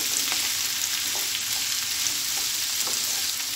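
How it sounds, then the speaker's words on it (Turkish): Okra sautéing lightly in a pan gives off a steady, close sizzle with occasional stirring scrapes, and no voices are heard. "O yüzden çok hafif bir sote yapıyoruz."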